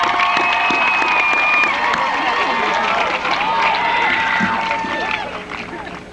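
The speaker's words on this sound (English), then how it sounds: "we should give all of those people, including our family and friends, a nice round of applause from the class" Crowd at a 1989 high school graduation ceremony claps and cheers, a steady roaring wash of applause with whistles and shouts throughout.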